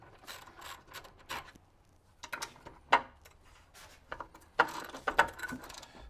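A ratchet wrench clicks in short, uneven bursts, with sharper metallic snaps as 13 mm bolts are broken loose on a Jeep during fender, grille and light removal, close and fairly quiet.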